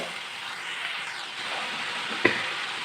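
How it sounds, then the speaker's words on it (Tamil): Ginger garlic paste sizzles steadily in a hot pan, a continuous frying hiss with a brief clink of a stirring utensil partway through. "இப்போ இஞ்சி பூண்டு பேஸ்ட் போட்டுக்கலாம் கொஞ்சம் பச்சை வாசனை போகிற வரைக்கும் கொஞ்சம் வதக்கிக்கோங்க"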